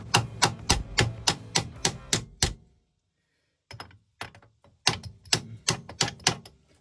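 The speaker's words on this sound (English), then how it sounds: "I want to point out that I'm using a ratchet for a hammer." A ratchet used as a hammer strikes metal in a pickup truck restoration, with a fast run of sharp, evenly spaced blows, a pause with a few lighter taps, then another rapid burst.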